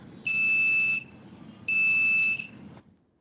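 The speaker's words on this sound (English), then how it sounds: "the sensor detects the flame and then the buzzer starts ringing" An Arduino buzzer triggered by an IR flame sensor sounds two loud, steady electronic beeps, each about three-quarters of a second long, separated by a short pause.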